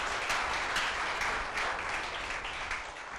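Audience applause at a startup demo day, a moderate crowd clapping steadily and fairly quietly from a distance, tapering slightly at the end.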